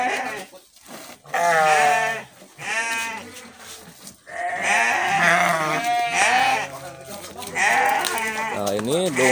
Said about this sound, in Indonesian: Nah, ini domba